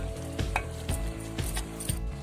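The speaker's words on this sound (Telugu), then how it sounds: "మటన్ వేగిన తర్వాత దోసకాయ ముక్కలు వేసుకొని 10 నిమిషాలు మగ్గనివ్వాలి." Mutton and cucumber pieces sizzling in a pan while being stirred, a loud frying hiss broken by regular scraping strokes about every half second, close and unaccompanied.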